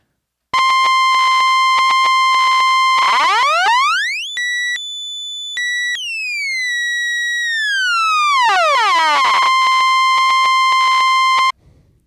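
Bright, buzzy analog synthesizer tones from two synced, cross-modulated oscillators, harmonics sweeping up into high piercing pitches, holding, then gliding back down, ending abruptly; loud and electronic with no voices.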